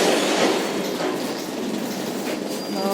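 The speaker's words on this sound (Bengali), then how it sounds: "আর ওই যে ট্রেনটা ঢুকছে।" A train pulls into Dankuni station with a loud, steady rumble and the rattle of wheels on track, heard close and without a break.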